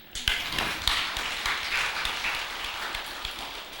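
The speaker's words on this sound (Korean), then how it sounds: "여기서 박수 쳐야지." A temple audience claps together after a Buddhist monk's dharma talk, a dense, sustained patter of many hands filling the hall without voices.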